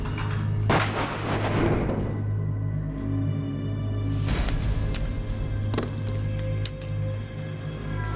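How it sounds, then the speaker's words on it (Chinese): Gunshots ring out in a tense drama scene: a loud blast opens, followed by several sharp, heavy reports spaced over a few seconds, each echoing booming and close. "马上开枪！"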